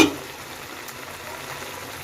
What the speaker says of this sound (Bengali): এই পর্যায়ে আমি দিয়ে দেবো চিংড়ি মাছগুলো